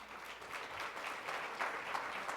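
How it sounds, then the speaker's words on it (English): Conference audience applauding at a city, county and state gathering, a steady wash of hand claps at moderate, somewhat distant level for a couple of seconds. "So let's give yourselves a round of applause."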